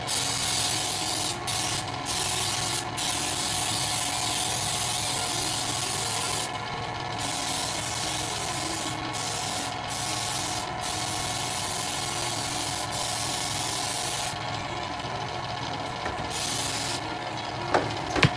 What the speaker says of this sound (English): be sure to spray along the sides and in the middle because you don't want anything to stick